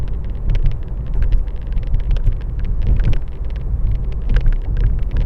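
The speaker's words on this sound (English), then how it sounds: "Another change of surface to some slightly newer asphalt" Car tyres rolling from one road surface onto slightly newer asphalt on Ridge Road, a steady close rumble of road and wind noise with no break, no voices over it.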